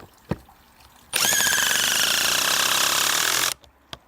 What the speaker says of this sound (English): And now the new hydraulic.